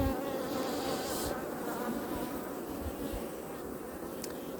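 Dense, steady hum of honeybees at an open hive during inspection, with newly emerging bees on the comb; a continuous near buzz with no pauses and no voices.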